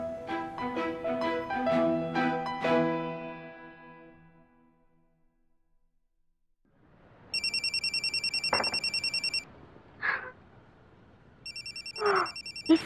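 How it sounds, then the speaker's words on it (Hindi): An electronic phone ringtone plays in two bursts with a pause between them, fairly loud, after a stretch of music that fades to near silence. "इसका फोन, क्या करूं"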